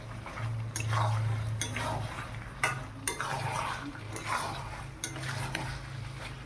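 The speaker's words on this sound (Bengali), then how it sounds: "আলুগুলোকে দিয়ে ভালো করে কষিয়ে নেব।" Potatoes and chicken being stirred and fried together in a pan, with repeated utensil scrapes and clinks over a soft sizzle and a low steady hum.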